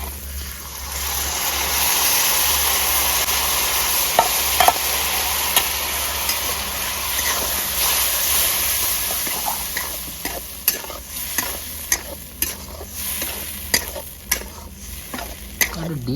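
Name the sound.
lentils added to fried onions sizzling while stirred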